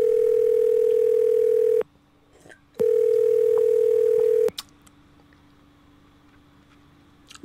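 Telephone dial tone on a phone call, a steady loud electronic hum that sounds twice in long stretches and cuts off sharply between them, followed by faint clicks and line noise.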